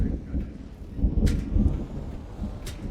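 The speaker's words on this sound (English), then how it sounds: "And a storm's coming in," A storm rolling in over the park in Jurassic World Evolution 2, with a steady low rumble of thunder under rain hiss and two brief sharp crackles.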